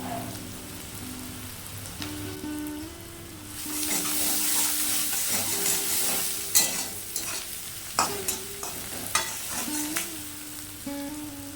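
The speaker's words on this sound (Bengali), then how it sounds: "খুব বেশি ভাজবো না দু মিনিট মতো ভেজে নিয়েছি এখন দিয়ে দেবো এক চামচ আদা" Ginger and moringa leaves fry in a pan, a crackling sizzle that swells into louder spattering partway through, with scrapes and stirring knocks over a low steady hum.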